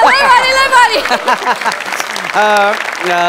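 Loud audience applause at a Marathi stage comedy show, a broad, steady clapping roar with voices and shouts rising over it throughout, close and full.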